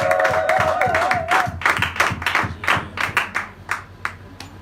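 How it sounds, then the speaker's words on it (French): A church congregation applauding for Jesus, with distinct rhythmic hand claps that start dense and gradually thin out into scattered, fading claps; a brief tonal voice is heard early on. "Can we applaud for Jesus?"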